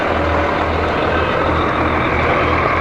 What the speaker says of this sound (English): and here's a nice yellow truck